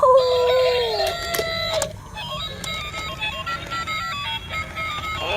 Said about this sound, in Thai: ไก่ตัวผู้ มาลุ้นกันว่าจะมีทานอีกตัวไหมเนี่ย